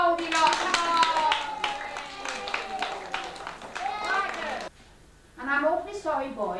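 An audience at a 1990 puppet show claps in a steady patter, mixed with lively voices calling out, then a brief hush before the voices rise again.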